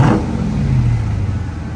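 Stock 2023 Dodge Charger RT Daytona V8 engine revving close by, a steady loud deep rumble that holds its pitch before easing slightly, heard alone without voices.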